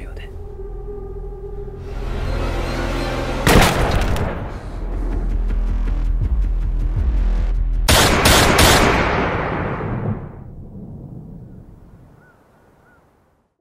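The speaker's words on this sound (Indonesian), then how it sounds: "tiba-tiba ada tembakan dari kejauhan" A burst of gunfire rings out amid loud, continuous noise, with a second sharp volley later before the sound fades into quiet.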